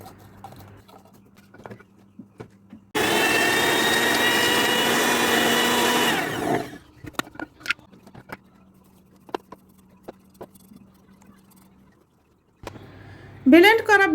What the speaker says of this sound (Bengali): ব্লেন্ড করলাম।